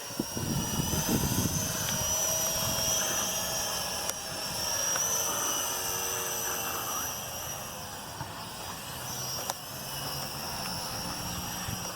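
A Venom Pro GPS streaming drone flies in a park, its steady high-pitched rotor whine droning continuously and fairly close, rising and falling slightly in intensity.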